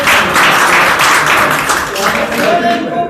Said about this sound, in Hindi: तालियां होनी चाहिए इस बात को